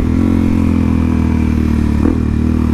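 A Suzuki DRZ400SM supermoto rides along with a loud, steady single-cylinder engine drone and wind rush, plus a brief thump partway through.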